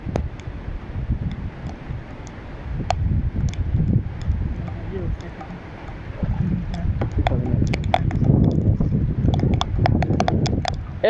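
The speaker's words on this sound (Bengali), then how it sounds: "এটা কোনো বাতাসের শব্দ না এটা সম্পূর্ণই বৃষ্টির শব্দ" Heavy rain pours down over open wetland fields in a steady, dense hiss, with scattered sharp drips and splats landing close by and voices faint in the background.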